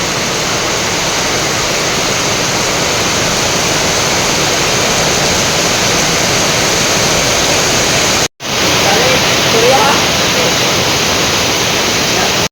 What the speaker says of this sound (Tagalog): Kay grabe jud ka kusog ang ulan.